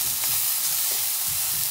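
Soy mince sizzles steadily in a pan over low heat, with a bay leaf added, giving a dense, even hiss of frying that stays loud and close throughout with no voices.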